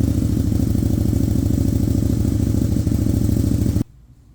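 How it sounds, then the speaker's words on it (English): A 2014–2016 KTM Super Duke R engine idles loud and steady while warming up, a close, even throb with a clattery edge that cuts off abruptly near the end. "you're going to want to start the engine and let it warm up a bit."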